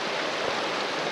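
River water flows steadily beside a campsite hammock spot, a close, even rushing wash that fills the brief moment without pause.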